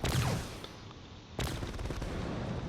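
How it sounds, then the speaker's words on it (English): Spaceship point defenses fire at incoming missiles in a space battle game, a dense, continuous barrage of rapid shots and rumbling blasts that stays loud throughout, with one sharp burst of fire midway. "point defenses are working overtime trying to take out all those missiles"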